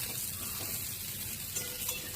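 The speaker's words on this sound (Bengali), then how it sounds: "খুব সামান্য তেলেই একটু ভাজার মতো করে নিয়েছি।" Cauliflower fries in just a little oil in a pan, giving a faint, steady sizzle with soft crackles throughout, heard alone without speech.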